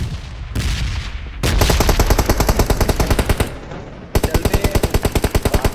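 Automatic weapon fire in the battle royale game PUBG, loud rapid bursts of shots in a fast rhythm, with a brief spoken remark early on.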